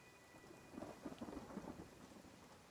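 Rain patters softly in the Nightingale video game while low thunder rumbles faintly in the distance, quiet and without speech.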